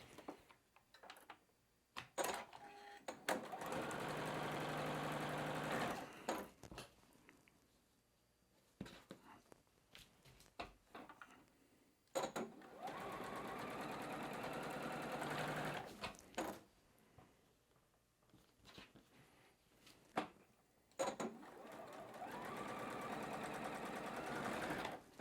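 A sewing machine chain-pieces quilt blocks, running in several sustained bursts of rapid stitching separated by quiet pauses and small handling noises.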